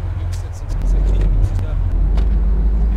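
Steady low engine drone of a car driving in DayZ Origins, a continuous rumble that swells slightly partway through, with people talking over it.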